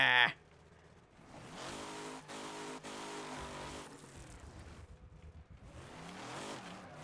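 A car in the Wreckfest racing game, modded, revving and drifting: engine rising and falling in pitch through several surges at moderate loudness, with no talk over it.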